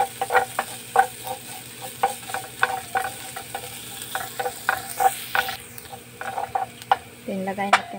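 Ginger sautés in a hot pan for a Filipino home-cooked dish, with a quiet background sizzle under a run of sharp, rhythmic scraping and clacking stir strokes from a utensil, close up.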